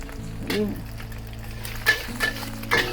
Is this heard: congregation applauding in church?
no